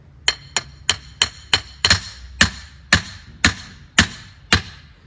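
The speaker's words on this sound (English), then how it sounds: "so I think I'll just hammer it in like that" A hammer drives a stake in for ICF strip footing forms: about a dozen sharp, loud metallic strikes in a steady rhythm, roughly two per second, close up with no talking.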